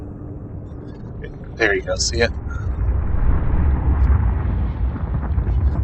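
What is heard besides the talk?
geothermal vent roaring underwater in video game Subnautica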